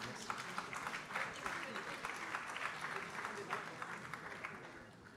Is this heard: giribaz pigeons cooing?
no